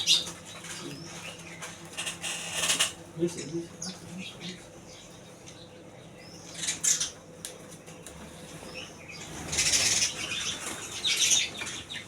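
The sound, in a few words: house sparrows chirping and flapping at a sparrow house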